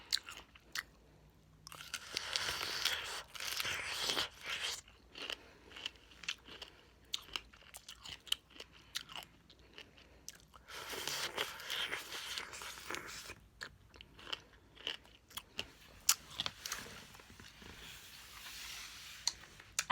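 Close, quiet bites and crunchy chewing on pomegranate seeds, coming in irregular bursts separated by near-silent pauses, with no talking.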